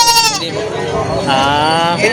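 Goats bleat repeatedly at a busy goat market, loud close wavering cries overlapping one another, with people talking in the background.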